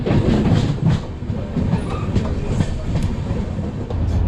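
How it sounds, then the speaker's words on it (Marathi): A passenger train on the rails rumbles steadily up close, with a continuous low roar and a rhythmic clickety-clack of wheels running through the whole stretch, and no voices. "आपले मागे जी ट्रेन आलेली आहे तीच आमची ट्रेन आहे"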